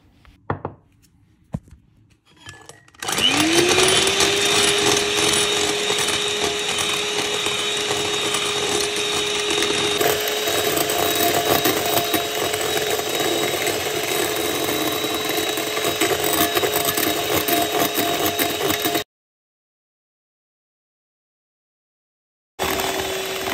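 Egg whites and icing sugar are whisked into meringue for gluten-free Italian nougat, with a loud, steady whirring motor whine that starts after a few quiet seconds and cuts off near the end.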